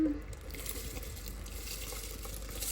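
Water comes to a boil in a home kitchen pot for cooking rice, giving a steady, close bubbling and churning hiss that holds at an even level throughout.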